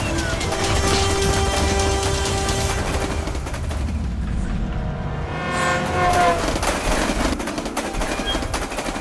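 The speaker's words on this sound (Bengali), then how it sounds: "সামনের থেকে তো আরেকটা ট্রেন আসছে।" A cartoon train rushing along a railway track, a dense, loud, continuous rattling clatter with a brief dip in the middle before the rumble swells again.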